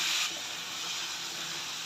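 Turmeric and red chilli powder frying in hot oil for Andhra gongura pappu give a steady broadband sizzle and hiss, loudest in the first instant and then settling to an even, close crackle with no talking.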